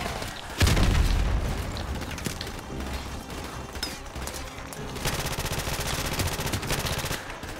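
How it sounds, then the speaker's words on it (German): Battle din from Call of Duty Modern Warfare Remastered: a heavy boom followed by sustained rattling gunfire and explosive blasts, dense and continuous throughout without speech. "Diese scheiß Granaten."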